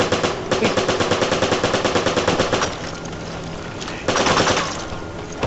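Machine gun fire in the video game Resident Evil 5, rapid continuous bursts of shots, with a pause and then another burst, loud and close.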